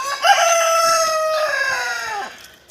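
A rooster crows loudly and close by, one long drawn-out call that rises and then fades, with faint clucking from other chickens underneath.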